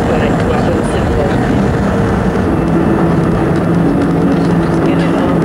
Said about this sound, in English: We're on the aeroplane in Aswan. We're just about to take off for a half-hour's flight to Abu Simbel.